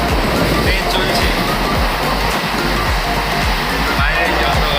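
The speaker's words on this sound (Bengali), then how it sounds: "ট্রেন পুরো ফাঁকা, আর আমি ট্রেনে একা। ট্রেন চলছে" A nearly empty passenger train running at night gives a loud, steady rumble and rattle of wheels on the rails that fills the whole stretch without a break.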